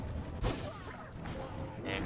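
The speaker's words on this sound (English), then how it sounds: "Here is that worm, exploding and taking out 2 of Core's exiles in the process." A worm explodes in the multiplayer video game Pyre: a sharp, booming blast followed by crackling, rumbling game effects and further bursts, dense and loud throughout.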